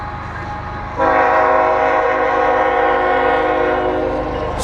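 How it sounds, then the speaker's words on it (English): A train passes close by, its horn blaring loud and sustained after a low rumble, the steady rail noise and clatter continuing beneath the horn until the end. "And there's a train."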